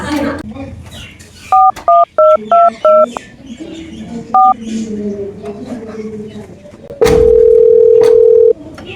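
A phone call to the village head starts with a quick run of six keypad dialing beeps and one more a moment later, then a loud, steady tone lasting over a second amid faint room noise.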